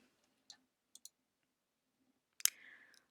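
A few quiet, separate mouse clicks on a computer, spread out over a near-silent room, followed by a brief louder click and a short rustle.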